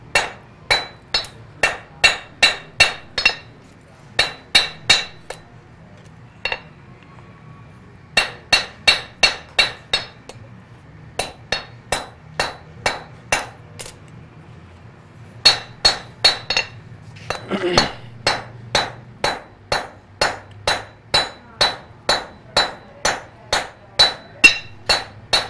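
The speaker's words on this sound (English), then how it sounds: "I'm hammering out the handle." A blacksmith hammers out a knife handle on an anvil, striking in quick bursts of loud, ringing metallic blows separated by short pauses, close and alone without talk.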